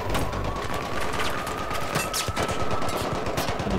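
Sustained automatic weapon fire in Battlefield 3, a dense rapid stream of gunshots running continuously at close range with a faint high tone underneath.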